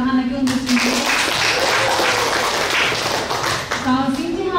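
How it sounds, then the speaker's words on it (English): Applause for Sinche, a contestant at a junior high school English speech competition, a dense steady wash of clapping that fills the middle of the moment, with a voice speaking briefly at the start and end. "kita beri tepuk tangan lagi untuk Sinche"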